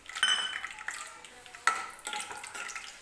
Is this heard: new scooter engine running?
no